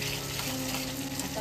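Cooked onion and tomato with kokum sizzle in a pan while being stirred, a continuous close frying hiss with faint scraping and no talking.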